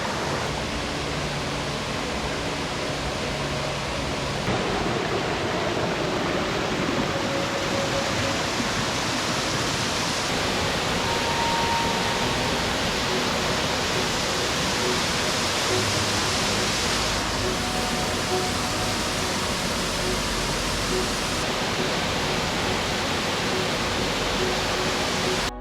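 A waterfall at Ricketts Glen rushing in a constant broadband roar, steady and enveloping from nearby with no gaps.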